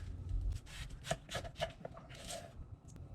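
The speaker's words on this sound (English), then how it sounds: "now we're gonna prepare the cauliflower. Chop in the middle." Knife cutting through cauliflower on a board, a quiet run of crisp chops and crunching slices in an irregular rhythm, close up and alone.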